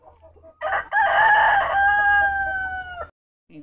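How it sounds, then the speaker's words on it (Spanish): A rooster crows once, loud and close, a long drawn-out call after a brief cluck, then quiet. "Hay varias granjas, varias gallinas."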